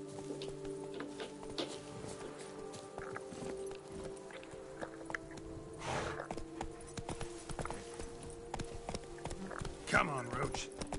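Hooves of a horse galloping in the video game The Witcher 3, a fast rhythmic clip-clop running under background music and in-game voices, with a neigh near the end.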